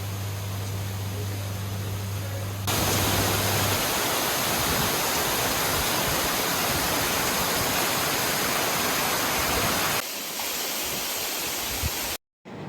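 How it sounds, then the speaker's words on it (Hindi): Steady roaring rush of water pouring down Katiki waterfalls in Araku valley, a dense, even wash of noise close by, with a brief low hum at the start and a sudden cut near the end. "आँख बंद करके ये जो पानी की आवाज़ है इतनी अच्छी लगती है"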